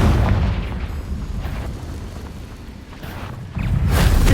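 Confringo fire spell blasting in Hogwarts Legacy, a booming explosion with rumbling low end that swells at the start, eases off, then bursts again loudly near the end.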